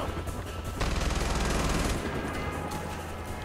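Gunfire from a weapon in Far Cry 4, a dense burst of rapid shots lasting about a second, loud and close, trailing into quieter game ambience.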